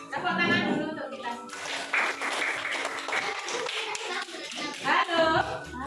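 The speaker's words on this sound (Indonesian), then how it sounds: "Tepuk tangan dulu untuk kita." Primary school children in a classroom clap together in a short burst amid chatter and voices, with uneven, lively hand claps rising and falling over a few seconds.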